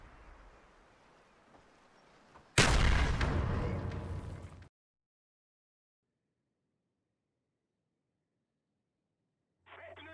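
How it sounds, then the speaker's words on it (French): Grenade blast in the video game Call of Duty Black Ops, one loud close explosion with a rumbling tail that cuts to silence, after faint game noise and before a brief sound at the end. "Mais quel est donc ce jeu où des grenades traversent des rochers pour venir vous tuer?"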